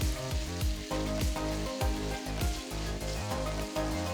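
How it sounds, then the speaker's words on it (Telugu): Onions already browned, now frying with ginger-garlic paste in a kadai for kadai chicken, give a steady, close sizzle with occasional stirring over a tonal background. "ఇలా ఉల్లిపాయలు బ్రౌన్ రంగులో మారిన తర్వాత 2 టీ స్పూన్ల అల్లం వెల్లుల్లి పేస్ట్ వేసి"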